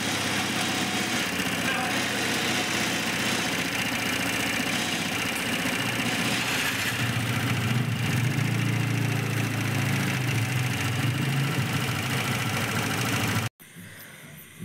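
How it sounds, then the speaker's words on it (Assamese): A TVS Jupiter new-model scooter engine idling with loose rocker valves, a steady close mechanical running hum with fine ticking texture, continuing until it cuts off abruptly near the end. "এইটো হৈছে ৰকাৰৰ চাউণ্ড ৰকাৰ ভেল্ভ কেইটা লুজ হৈ গৈছে।"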